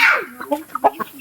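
Native chicken clucking close by in a rapid series of short clucks, loud and clear with no talk.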